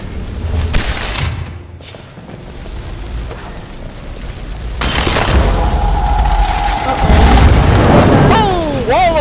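A wall of fire spell erupts in Skyrim with a heavy booming roar and a sustained crackling rush of flames, loud and close, building in the second half among game sounds and combat noises.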